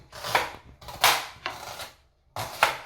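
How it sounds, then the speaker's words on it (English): A kitchen knife chops onions on a cutting board in four crisp, separate bursts of cutting, fairly close and loud, with brief pauses between strokes and no talking. "Now I'm chopping up my onions"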